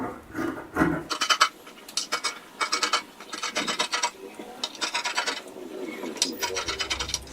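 Fabric for a kaftan dress being trimmed with scissors, giving close, repeated rasping snips and rubbing strokes in irregular bursts, with no talking.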